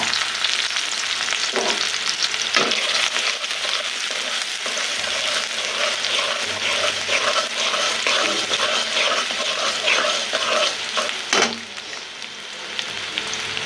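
Onions frying in hot oil in a wok give a loud, dense, continuous sizzle with stirring scrapes and a couple of sharp clatters, close by, with no talk.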